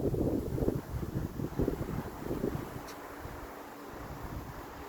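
Strong wind buffets the microphone with a heavy, rumbling low roar in uneven gusts, loudest at first and then easing to a steadier rush.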